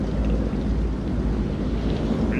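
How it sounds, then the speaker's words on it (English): A thunderstorm in the video game Man of Medan, heard aboard a boat at sea: a constant roar of rain and wind over a low rumble, loud and unbroken, with no voices. "Find out how long the storm is gonna last."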